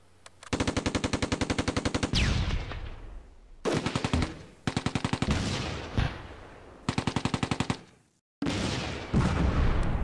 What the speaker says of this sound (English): My anti-tank gun fires at the Panther and misses.